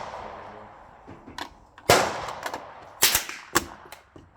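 Cast bullets fired at an outdoor range: several sharp gunshot cracks spaced irregularly, each loud and abrupt, with quieter rumbling and faint background noise between them.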